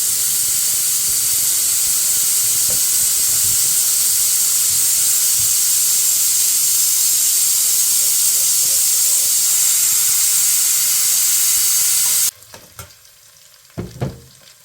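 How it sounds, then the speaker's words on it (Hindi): Ginger garlic paste and biryani masala fry in a pot for mutton biryani, making a loud, continuous hissing sizzle that runs for about twelve seconds, then cuts off to leave a few quiet clanks. "मसाले को हम भुनेंगे।"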